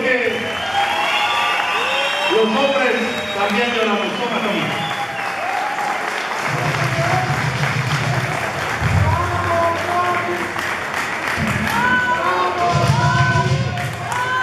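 Crowd applause and cheering at a lucha libre farewell event for a retiring wrestler, loud and sustained with thuds, while someone speaks over it through a microphone.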